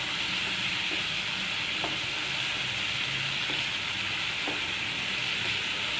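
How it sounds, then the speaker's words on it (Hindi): Chicken frying in a pan, a steady close sizzle with a few light clicks of stirring scattered through, no voices. "चलेंगे इसे 5 से 6 मिनट तक भूनेंगे, जब तक चिकन सही से फुल टाइम ना हो जाए तब तक"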